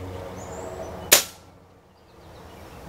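A Benjamin Prowler .22 air rifle fitted with a monocore silencer fires a single sharp, snappy shot that quickly fades, the pellet striking the ground in front of the target amid quiet outdoor background.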